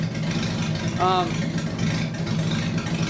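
A salvage-auction Jeep Cherokee idling with its catalytic converter cut out, a steady low rumble running throughout with a brief squeal midway and a voice talking over it.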